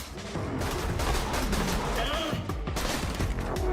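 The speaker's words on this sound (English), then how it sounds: "We're shooting him. We're shooting him." Gunfire in an online shooter video game, a dense continuous stream of shots and impacts at moderate loudness, heard without any speech over it.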